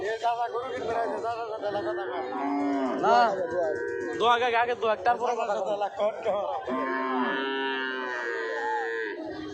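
Holstein Friesian cattle moo repeatedly and loudly nearby at a cattle market, long drawn-out lowing calls overlapping one another, with voices talking underneath.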